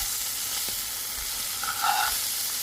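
Mahi mahi sizzling in a cast iron pan with the heat just turned off, a steady close hiss of frying with a faint brief tonal ping near the end.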